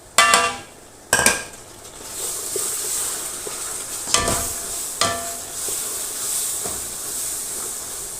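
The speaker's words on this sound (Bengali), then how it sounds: "ভালো করে কষিয়ে নিব।" Spices, salt, cumin, coriander, turmeric and ginger garlic paste fry in hot oil with a constant hissing sizzle, broken by several sharp spoon clanks against the pan as they are stirred.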